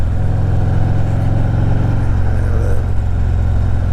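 A Harley Davidson Ultra Limited motorcycle with the 114 engine runs steadily in a loud, close, deep rumbling idle with a pulsing low throb.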